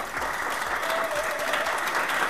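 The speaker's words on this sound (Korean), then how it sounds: "박수로 시작하겠습니다." An audience claps at the opening of a National Assembly debate on labor rights at small hospitals and clinics, a dense, steady round of applause filling the room for a couple of seconds.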